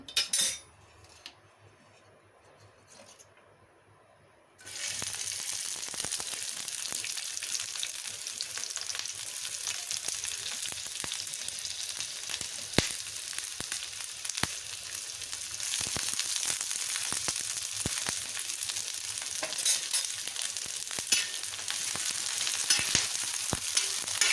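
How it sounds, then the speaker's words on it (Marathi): Onion fries in two spoons of oil on a hot griddle, a faint quiet start then a loud, dense sizzle that holds for about twenty seconds, with occasional clinks of a spoon or spatula against the pan. "त्यावर दोन चमचे तेल टाकून आधी कांदा भाजून घेऊ आपण"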